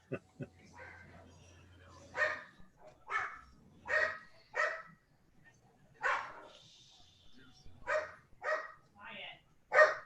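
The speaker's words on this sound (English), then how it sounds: "Your dogs is giving somebody hell." Dogs bark and yip repeatedly in another room, a steady run of sharp, fairly faint barks spread across the whole stretch.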